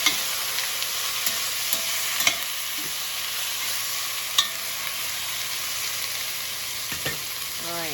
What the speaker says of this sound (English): they're starting to get nice and seared in there